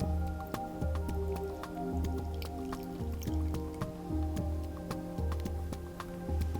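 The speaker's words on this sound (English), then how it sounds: "you're going to grab your dry ingredients and just pour all of your wet ingredients into the center" Wet cupcake batter ingredients are poured into a bowl of dry ingredients, making soft, repeated squishing and dripping sounds over a steady low background hum.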